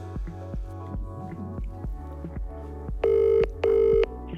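An outgoing phone call rings out on the line: soft handling clicks first, then two long electronic ring tones in quick succession, loud and close.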